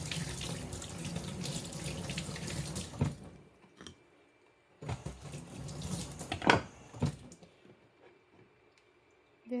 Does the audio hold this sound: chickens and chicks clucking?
no